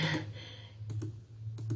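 Computer mouse clicks while navigating the Blackboard course website, a few short sharp clicks around a second and a half apart, close and crisp over a faint steady hum.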